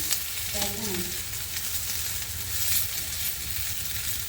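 Thin and thick pumpkin slices fry in a pan with a steady, close sizzle and crackle that runs unbroken throughout, with a brief faint tonal sound near the start.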